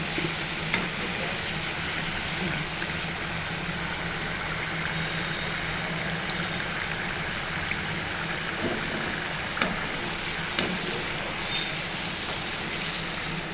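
Amla pickle fries in a pan, giving a dense, even sizzle that holds steady throughout with a few faint clicks, close by and without talk.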